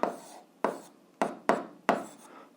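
Chalk strokes on a board during an eighth-grade algebra lesson, five short scratchy bursts in an uneven rhythm, close and fairly loud, with quiet gaps between and no talking.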